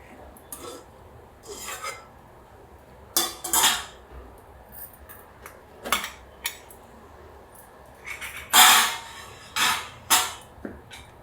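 Soaked rice and dal being moved into a mixer jar, with scattered clinks and scrapes of steel dishes and utensils coming in short bursts, fairly close and quiet, with no talking.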